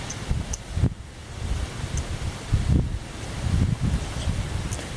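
Wind blowing outdoors, buffeting the microphone in low rumbling gusts with leaf-like rustling and a few faint high ticks, steady and fairly loud with no talking.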